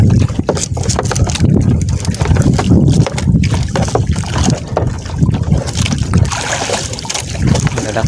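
Big sea waves rock a small fishing boat out at sea during net fishing, with loud constant water wash and heavy wind buffeting the microphone, surging and rumbling throughout with no clear break.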